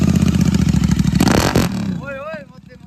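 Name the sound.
GT650 motorcycle with Red Rooster exhaust revving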